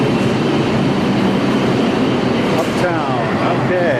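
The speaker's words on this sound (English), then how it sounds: "The dreaded New York subway." New York City subway train rumbling loudly and steadily on a platform, with screeching metallic squeals rising near the end and voices talking over the din.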